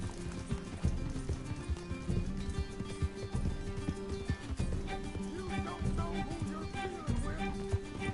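Rapid rhythmic clip-clop of horse hooves galloping continuously in Red Dead Redemption 2, with a musical bed and occasional talk underneath.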